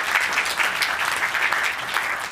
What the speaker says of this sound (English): can I hear a round of applause for my friend Paul?